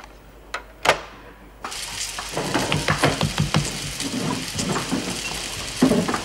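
After a couple of sharp clicks, food starts sizzling loudly in a frying pan, a steady crackling hiss with spattering pops, no voices.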